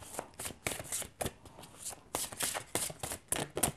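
Tarot cards being handled and dealt, with a rapid run of crisp riffling shuffle bursts and flicks close up, in irregular clusters, with no voices.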